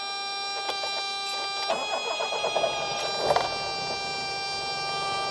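A carbureted 1976 BMW 2002 engine turns over and catches, settling into a steady idle with a few uneven surges and bursts of revving, heard close and alone.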